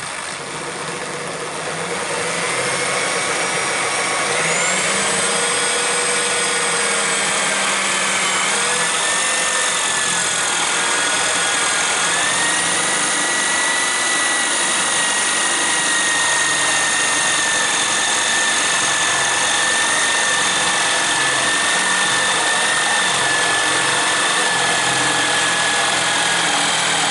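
An Axminster drill press fitted with a guide drilling into wood, its motor spinning up and holding a steady whine with a constant rumble throughout, with no talking.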